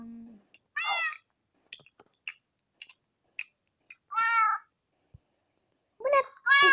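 A domestic cat meows several times in clear, close bursts separated by short pauses, with faint clicks and small noises in between and no talking.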